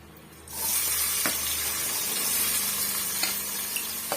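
Curry leaves and onion hit hot oil and break into a loud, steady sizzle that starts abruptly and continues, with occasional stirring clicks, while a chicken gravy is being cooked.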